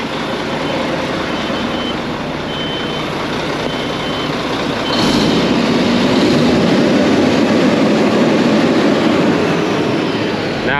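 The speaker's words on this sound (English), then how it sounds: "Once that air pressure gets into that clutch, it'll lock it up." Truck engine cooling fan with an air-operated fan clutch locked up, a loud continuous roar and whoosh that swells abruptly midway as the fan engages, then holds steady and strong.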